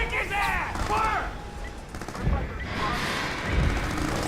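Gunfire in the video game Crysis, a busy battle mix of rapid shots with shouted voices and radio chatter on top, steady and loud throughout.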